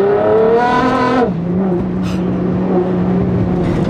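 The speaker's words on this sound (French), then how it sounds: "le V6 biturbo de la GTR, mais c'est un son qui est" A Nissan GT-R's twin-turbo V6 revs hard with a rising harmonic whine, then drops to a steady, loud idle-like drone that carries on alone to the end.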